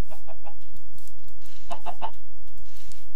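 Chickens cluck in a Minecraft hardcore world, a couple of clusters of short, close, clipped clucks with pauses between them.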